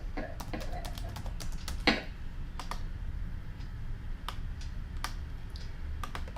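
Computer keyboard typing while working in the Java NetBeans editor, a steady run of light, close key clicks with brief pauses and one louder tap, no talking.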